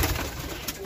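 Fancy pigeons in a loft cooing, a brief loud burst of low throaty calls against a noisy, crowded background.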